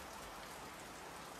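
Steady rain falling outdoors on a rural homestead, a dense even hiss that stays loud and unbroken throughout with no voices.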